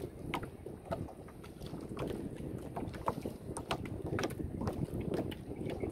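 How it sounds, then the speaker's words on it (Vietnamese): Strong wind buffets the microphone on a small fishing boat in flooded fields of the Mekong Delta during the high-water season, a steady rough roar with scattered crackling knocks throughout. "Gió quá các bạn"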